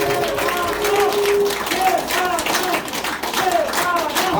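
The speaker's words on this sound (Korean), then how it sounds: "큰 박수로 박수 한번 치면서 마치겠습니다" Crowd applause at a South Korean political rally as a speech ends, a loud, ragged burst of many hands clapping with voices calling out over it.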